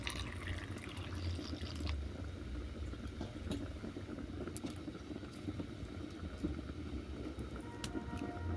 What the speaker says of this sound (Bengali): এরপর এটাকে জল পাল্টে পাল্টে আমি ভালো করে ধুয়ে নেব।